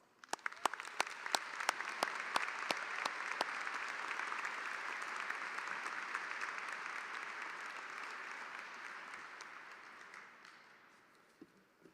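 Audience applause at a high school commencement. A few distinct claps open into a broad, sustained roar of clapping from a large crowd, holding steady before fading out toward the end.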